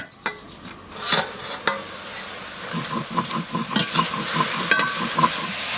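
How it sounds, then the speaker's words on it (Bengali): Greens (shak) frying in a pan, with a steady sizzle under rhythmic stirring and scraping strokes that quicken toward the end, close by and fairly loud, with no voices. "শাক ভাজা হয়ে গেছে,"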